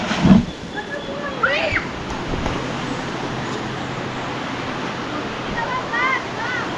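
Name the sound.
flowing river water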